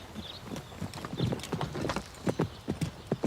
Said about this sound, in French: Cobalt est magnifique et Carole le monte avec une grâce indéniable